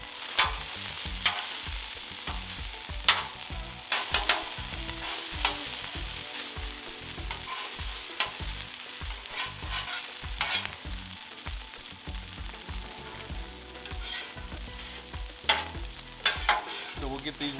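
Onions and pre-cooked vegetables frying on a 36-inch Blackstone griddle, a constant close sizzle broken by repeated scraping and tapping of a metal spatula on the flat top.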